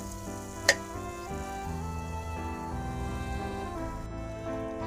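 Onion and tomato paste goes into hot oil in a frying pan for a country chicken curry, giving a steady sizzle with a brief sharp click near the start and no talk.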